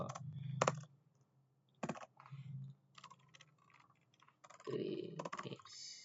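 Someone types commands on a computer keyboard in a Linux terminal: bursts of close, crisp key clicks separated by short pauses, with occasional louder thumps and faint handling noise, no talk.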